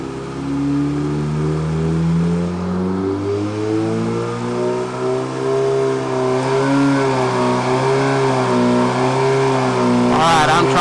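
A 2017 Suzuki GSX-R1000 motorcycle engine held at about 80% throttle on a dyno, revving loud and close with a steady, rising and wavering whine that fills the whole stretch, ending in a sharper burst.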